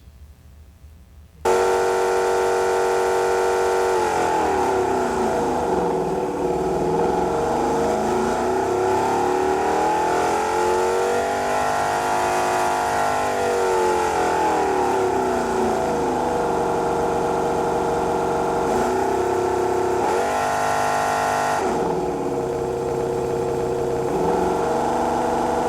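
A recorded motorcycle engine plays back forwards and backwards at shifting speeds, its steady mid-pitched drone sweeping up and down in pitch with smeared, warped revs, loud and close, cutting in abruptly after a brief quiet start.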